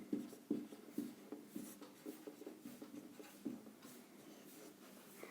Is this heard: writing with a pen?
yes